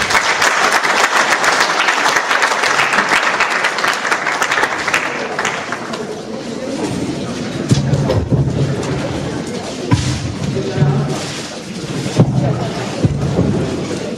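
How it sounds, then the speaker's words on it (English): An audience at a business and investment summit claps loudly for a visiting Sierra Leone minister, a dense burst of applause that tapers after several seconds into scattered claps under a low rumbling hall noise. "Please give him more Nigerian clap."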